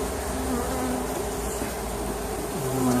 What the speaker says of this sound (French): Il doit y avoir une abeille qui s'est trompée de ruche